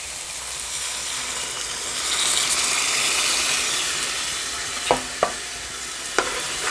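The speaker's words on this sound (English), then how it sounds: "Our pumpkin is simmering in the coconut milk." Pumpkin simmers in coconut milk in a pot, giving a steady gentle hiss and bubbling, followed near the end by a few short knocks of a spoon against the pot.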